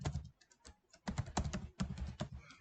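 Keys clack on a computer keyboard while a name is typed into accounting software, the taps coming in quick close bursts with short pauses, nearby and fairly quiet, with no voice.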